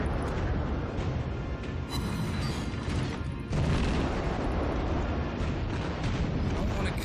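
Naval guns and exploding shells from the World of Warships video game make a continuous, rumbling barrage with sharp booms scattered throughout and a brief lull near the middle.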